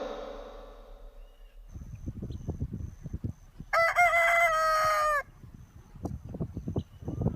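A rooster crows once loudly and up close, a long strained cock-a-doodle-doo with a bright sustained call, set between softer clucking and scratchy farmyard chatter before and after.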